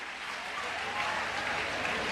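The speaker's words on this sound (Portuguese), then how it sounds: "E tu aplaudiu?" Church audience at a pastor's comedic family sermon applauds, a continuous mid-level wash of many hands clapping that swells slightly toward the end.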